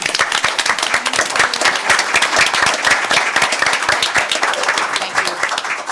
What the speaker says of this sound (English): if we could give him applause